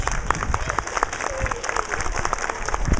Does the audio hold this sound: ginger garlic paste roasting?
no